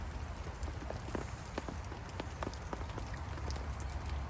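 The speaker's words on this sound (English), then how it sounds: "Going to be raining for the next hour" Rain falls steadily, with scattered droplets tapping sharply on nearby surfaces over a soft low rumble.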